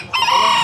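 A rooster crows loudly and close at hand in a busy Chennai chicken and pet market, a single short, sharp call.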